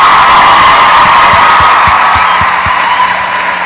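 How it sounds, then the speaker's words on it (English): A convention hall audience at a fan panel cheers and applauds loudly, a dense continuous roar of voices and whoops with scattered claps, sustained and close throughout. "Another round of applause,"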